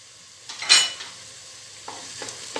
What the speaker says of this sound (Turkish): Bir yemek kaşığı domates salçamı da ilave ediyorum.